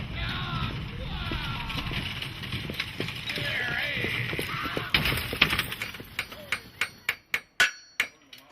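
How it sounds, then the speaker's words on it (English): A blacksmith's hammer rings out in a steady series of sharp metallic strikes at the Pioneer Yosemite History Center in Yosemite National Park, following a stretch of honking geese and outdoor bustle. "A blacksmith's hammer and a horse-drawn coach transports us to the days of log cabins"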